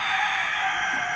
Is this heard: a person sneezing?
no